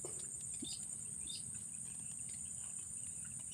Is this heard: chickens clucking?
no